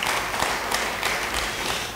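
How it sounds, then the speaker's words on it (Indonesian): Congregation applauding in a church service, a steady wash of clapping with a few sharper claps standing out, lasting about two seconds at moderate loudness. "Beri tepuk tangan bagi dia"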